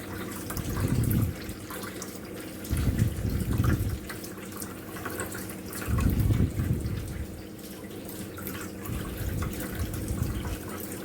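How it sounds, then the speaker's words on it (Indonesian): Water poured slowly, a little at a time, into a container of two-week-old betta fry during a water change, coming as several soft gurgling bursts of liquid with quieter gaps between, close by and alone. "Nuangnya pelan-pelan aja, dikit-dikit. Nah, masukin airnya supaya ikannya nggak kekocok"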